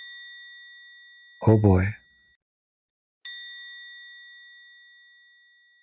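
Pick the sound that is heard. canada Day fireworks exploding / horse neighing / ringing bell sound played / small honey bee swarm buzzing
ringing bell sound played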